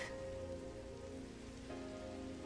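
Steady Minecraft rain pours continuously with a soft, even hiss of drops on surfaces and no talk over it.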